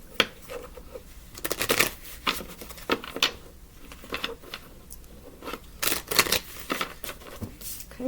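Tarot cards are shuffled and handled close up, a series of crisp riffling and flicking bursts separated by brief quiet moments.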